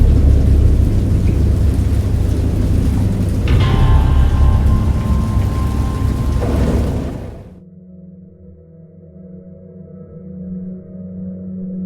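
Video game thunderstorm in the horror game Dagon: heavy rain roars with deep thunder rumbling beneath, then abruptly drops away to a quieter low hum.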